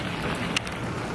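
Steady rain falls outdoors ahead of Hurricane Irma, a dense, even hiss with one brief brighter spatter partway through, no voices over it.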